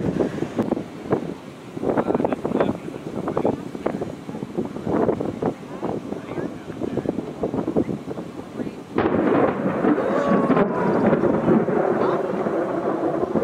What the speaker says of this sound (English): That lightning thunder.